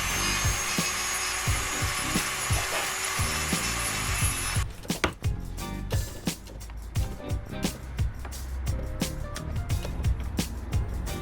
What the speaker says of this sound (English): so we're going to use the Dremel